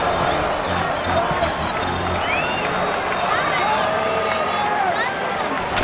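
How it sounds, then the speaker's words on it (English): Stadium crowd noise from the MLB 2K8 baseball video game, a steady dense roar of fans cheering at a Minnesota Twins vs Kansas City Royals game, loud and continuous with whistles and shouts rising out of the din. "They're down by 1, but the fans are still cheering."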